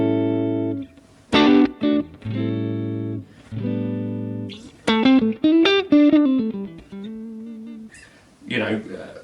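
Electric guitar through a Mesa Boogie Mark 1 Reissue tube amp playing clean chords and short melodic runs, with pauses between phrases; warm, fairly close and moderately loud.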